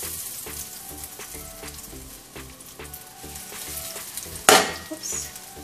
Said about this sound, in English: We're gonna shallow fry. Actually, like a pan fry.